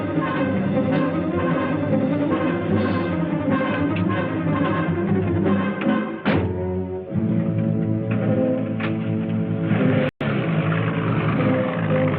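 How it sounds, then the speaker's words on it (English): A motor drones in a 1959 sci-fi film, a steady, fairly loud rumble with a brief dip and a sharp surge partway through before it keeps running evenly, with no voices. "Go start the motor."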